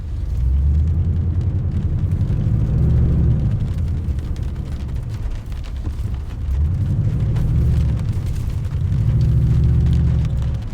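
Inside the cabin of a Toyota Tundra fitted with a TRD dual exhaust, a deep engine drone rises and swells with throttle in waves, steady and loud throughout with no speech.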